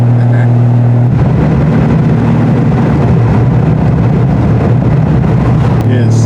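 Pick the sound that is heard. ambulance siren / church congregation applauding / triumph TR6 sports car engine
triumph TR6 sports car engine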